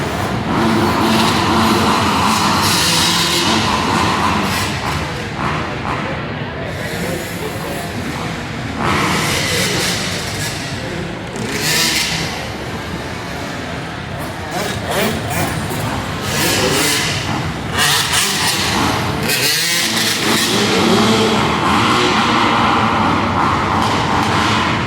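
Pit bike engines, including a 375 in a 450/250 C-class race, scream at high revs along a straightaway on a track in Greenville, a loud continuous wail of several bikes with surging and fading passes.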